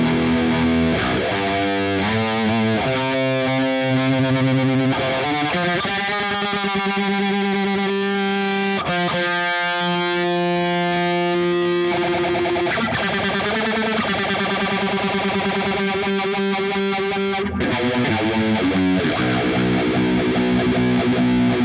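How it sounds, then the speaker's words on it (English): Electric guitar played through the Neural DSP Archetype Petrucci plugin with a phaser placed ahead of the distortion, giving sustained, sweeping, heavily driven chords and notes that ring loud and continuous with no talking. "So phaser before the distortion."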